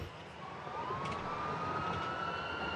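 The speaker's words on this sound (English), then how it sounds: "We'll go lights and sirens." A faint, steady ambulance siren slowly rising in pitch over a constant low rumble of New York City traffic or engine noise, continuous throughout.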